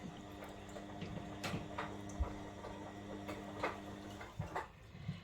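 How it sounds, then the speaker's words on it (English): A low mechanical hum runs steadily with soft irregular ticks and sloshing knocks, like an appliance churning in another room, faint and continuous. "If you can hear the washing machine,"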